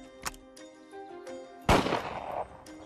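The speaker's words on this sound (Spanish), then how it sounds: "Buen disparo." One loud revolver shot fired at a target, a sharp crack that rolls into a brief echoing boom, preceded by quiet clicks and a soft musical tone in the background.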